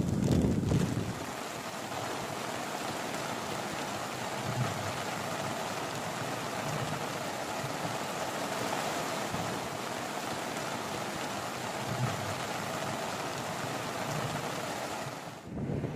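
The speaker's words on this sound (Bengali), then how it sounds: "মুষলধারে বৃষ্টি।" Torrential rain and stormy waves at Bagda sea beach, a dense continuous roar of rain, surf and wind buffeting the microphone, steady throughout.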